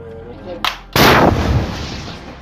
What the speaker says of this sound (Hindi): वो उसके ऊपर red arrow anti tank guided missile fire कर देता है, जिसमें जोरदार धमाका होता है